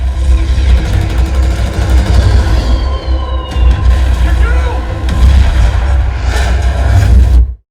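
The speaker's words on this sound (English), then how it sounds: "the explosions hit with some serious impact and remained very controlled with a tight, swift attack during the aerial assault" Movie explosions from an aerial assault scene played through an Ascendo SV-12 home theater subwoofer: heavy, booming blasts with deep rumbling low end, roaring continuously before cutting off abruptly at the end.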